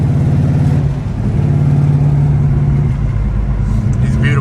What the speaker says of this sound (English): This car is so fun to drive.